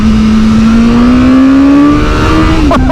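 A 2021 BMW S1000R supernaked motorcycle in Dynamic Pro mode accelerates hard from 30 to 60, its loud, close engine note climbing steadily in pitch before a quick gear change near the end.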